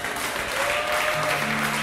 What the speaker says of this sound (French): Est-ce que tu peux donner une bonne acclamation pour ça?